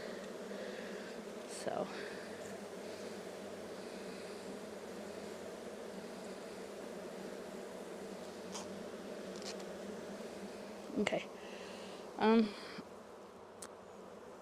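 Honey bees buzz softly around open hives during a queen inspection, a low continuous hum with occasional individual bees passing close, and a person speaks briefly.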